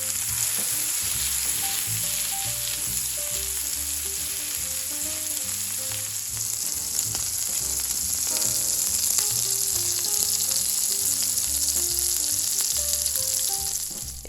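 Offal burger patties of mixed organ meat frying in a hot pan, a loud continuous sizzle and spatter close up throughout, with no voices.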